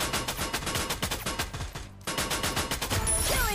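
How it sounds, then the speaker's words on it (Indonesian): Rapid bursts of automatic gunfire repeat in quick rhythm, loud and close, with a brief pause midway before the shooting resumes, in the video game Free Fire. "Tembakan Boboiboy"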